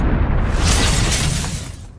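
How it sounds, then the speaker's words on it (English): A gigantic blast from a thrown magic stone: a loud, broad roaring burst that holds steady for nearly two seconds before tailing off, with a rumbling low end and no voices. "helps keep them safe from the subsequent gigantic explosion"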